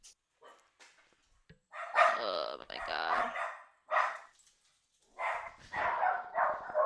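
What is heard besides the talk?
dogs barking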